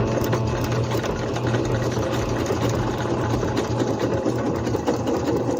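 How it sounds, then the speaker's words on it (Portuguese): A Singer C5605 electronic household sewing machine stitches fabric with a steady, rapid mechanical whir and fine needle chatter, running continuously and close by without any voices. "e costuro"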